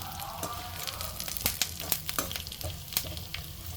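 Ingredients for a spiced puffed rice mixture fry in a pan, giving a close, steady sizzle with frequent sharp scrapes and taps from stirring.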